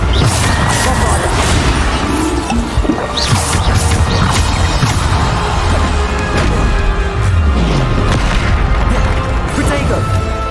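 Repeated Bombarda blasting spells erupt in Hogwarts Legacy combat, loud crashing booms and smashing impacts packed densely through the whole stretch amid other spell effects and chaotic battle noise, with a voice speaking over the top.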